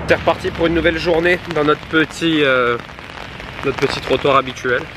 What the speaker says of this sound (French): Bon il pleut hein, comme vous pouvez le voir, aujourd'hui il pleut